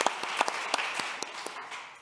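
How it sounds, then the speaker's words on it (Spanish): Audience at a national atopic dermatitis day awards event applauding: a small group clapping with sharp, separate claps over a soft, fairly quiet background. "os pido un aplauso enorme para él"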